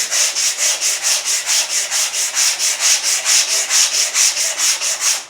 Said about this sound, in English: don't keep sanding